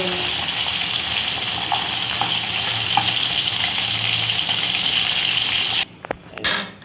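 Tengra fish fry in hot oil in a home kitchen, a loud, dense, continuous sizzle heard up close that cuts off near the end, followed by a few soft clatters.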